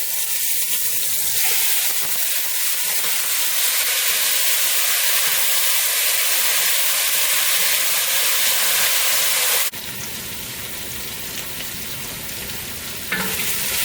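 Seasoned pigtail pieces dropped into a pot of dark amber caramelized sugar, setting off a loud, steady sizzle and hiss that runs throughout, with a sharp shift partway through as more pieces go in.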